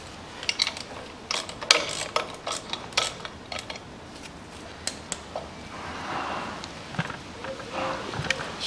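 Ratcheting and clinking metal tool sounds while tightening parts during assembly of a 1982 Land Rover Series III, a run of sharp irregular clicks and clanks close by, with a stretch of softer rustling handling noise.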